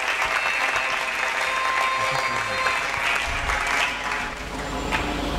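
A church congregation applauds during a sermon, giving steady, dense clapping from many hands that fills the room for several seconds, with faint crowd murmur underneath.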